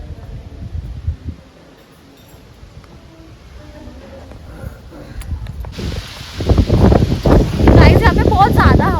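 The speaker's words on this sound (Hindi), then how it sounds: "यहाँ पे बहुत ज़्यादा हवाएं चल रही है" Strong wind blows outdoors at a Hindu temple, a low rushing roar that grows louder and gustier toward the end, mixed with people talking nearby.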